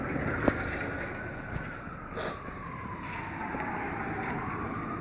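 An ambulance siren passes in the distance with a slow rising and falling wail over steady background noise, heard from a workshop where a car transmission is being worked on.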